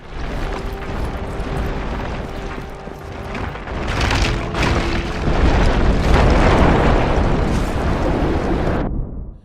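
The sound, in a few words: explosions blowing up buildings and cars in video game Just Cause 3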